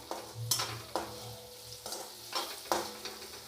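Boiled potatoes are stirred in a frying pan for Gujarati batata poha. A soft sizzle runs underneath several spaced scraping strokes of the spoon, close and fairly quiet, with no talk.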